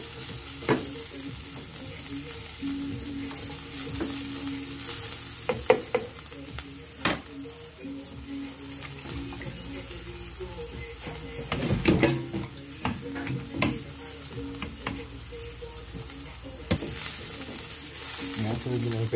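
Pechay sizzles steadily while being sautéed as ginisa in a pan, with intermittent scrapes and clinks of stirring and a voice occasionally heard talking.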